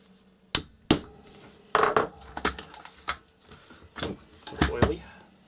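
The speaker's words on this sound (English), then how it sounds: "Let's just kind of blast this off with a hammer." Several sharp metallic hammer taps knocking a 2.5 mm pin out of the front of a Valken Battle Machine CQB airsoft gun, close and irregular, with brief talk in between.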